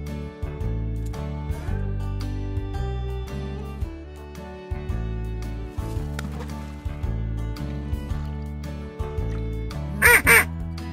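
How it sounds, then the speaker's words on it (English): A duck gives a brief burst of loud quacks right at the end, cutting through continuous background music. "Duck."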